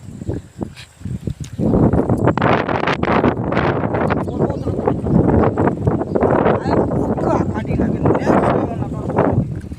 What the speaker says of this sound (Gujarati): પવન છે અહીં